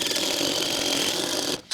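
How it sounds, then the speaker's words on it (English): A paddle wheel bit bores straight down into a wooden 4x4, giving a steady, loud, continuous grinding whir that runs without a break and then cuts out near the end. "Now we're simply going to take our paddle wheel bit and we're going to go straight down, as straight as we can, into this until it bottoms out"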